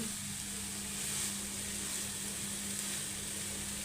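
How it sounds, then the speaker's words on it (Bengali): Bottle gourd peel and potatoes stir-frying in a pan, a steady close sizzle with faint stirring underneath and no voices. "আগে এগুলাকে একটু ভালো করে কিছুক্ষণ নাড়াচাড়া দিয়ে নিই"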